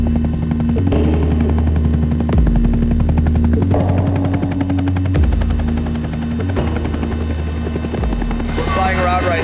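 A Pemex helicopter in flight over Mexico, its loud, steady rotor chop and turbine whine continuous throughout from inside the cabin, with faint talk underneath.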